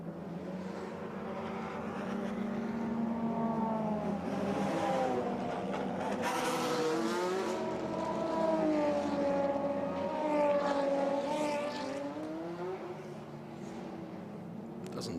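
Ferrari race cars climb the hill at the Imola circuit during the Ferrari Finali Mondiali 2022, with engines revving and shifting through rising and falling pitches, loud and sustained as the cars pass.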